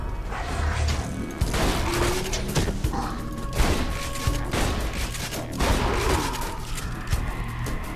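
Weapon fire in the video game Borderlands 2 from a gun using three ammo per shot, with repeated heavy shots, booming impacts and mechanical clatter over a dense, loud battle din.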